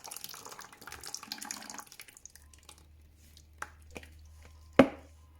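Liquids run into a large bucket while a boilie bait mix is made, a soft pour and trickle for about two seconds, then quiet handling and a few light knocks ending with a sharp clunk.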